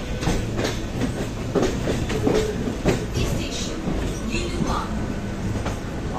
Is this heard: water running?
no